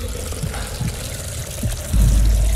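Fuel pours from a canister into a generator in a mine-set horror game, heard as a short gurgling liquid splash that turns into a louder, steady gush near the end.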